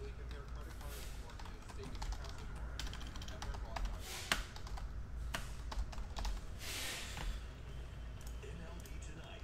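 Keys clatter on a computer keyboard in bursts of typing while cards from a 2019 Leaf Metal Pop Century box are logged, sitting under steady room noise with a voice talking over it.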